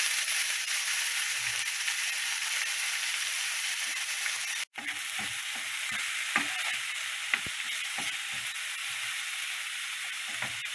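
Half a chopped onion sizzles in two tablespoons of coconut oil, a steady close frying hiss with a brief break and then clicking stirs and scrapes over the sizzle.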